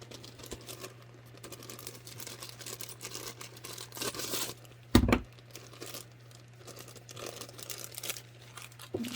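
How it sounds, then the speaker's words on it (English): Scissors snip into a plastic bag holding a new Princeton Neptune Round number 8 watercolor brush, giving soft crinkles and rustling with one sharp crunchy cut in the middle, all quiet and close. "So it comes in a bag, which we'll just cut open."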